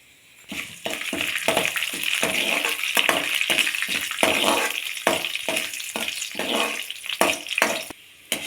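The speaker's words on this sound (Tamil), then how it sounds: "இப்போ நான் கருப்பு உளுந்து சேர்க்குறேன் இதை நல்லா வறுத்துக்கலாம்" Black urad dal frying in hot oil for a kadamba chutney, a steady broadband sizzle with frequent stirring scrapes and brief dips in the crackle, close and fairly loud throughout.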